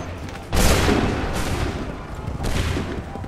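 Musket volleys from soldiers in Assassin's Creed III, set at Lexington and Concord: three loud, booming fusillades about a second apart, each a sharp crack trailing into a rumbling roar over steady battle din.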